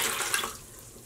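Running tap water pours steadily while dye is rinsed off in a sink, a continuous hiss that eases slightly toward the end, with no talking.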